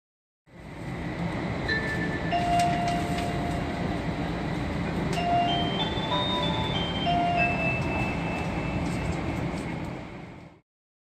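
A gentle electronic chime melody of sustained tones plays over the steady rumble of a moving Hikari 500 Series Shinkansen train.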